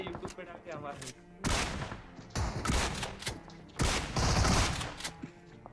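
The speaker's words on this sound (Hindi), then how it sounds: "क्योंकि शॉटगन थी तो भाई मज़ा आ गया भाई शॉटगन से बंदों को पेल के" Shotgun blasts from the battle royale game PUBG, several loud sharp bursts in quick clusters amid game sounds, with background chatter and speech.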